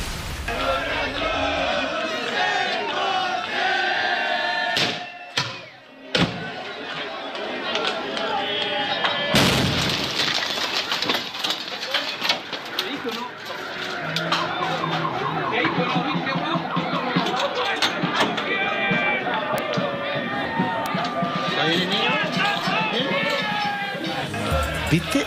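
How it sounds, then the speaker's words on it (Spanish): Fireworks set off at a funeral, several sharp loud bangs and a bigger blast partway through, with crowd noise and people talking throughout. "¿Viste esa explosión?"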